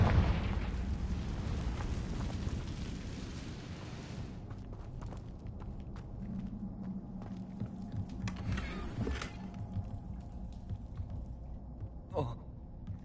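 A Confringo fire spell blast in Hogwarts Legacy, a loud burst with a rumbling, crackling tail that fades over several seconds, followed by softer pops and game effects.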